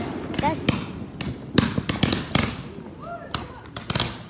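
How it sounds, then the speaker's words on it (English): Fireworks go off outside a house in a series of sharp, separate bangs and crackles at irregular intervals, with people talking in between the bursts. "Cool fireworks."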